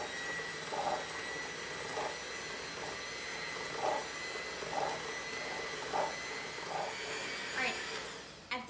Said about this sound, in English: I'm gonna use my hand mixer, but if you have a regular stand mixer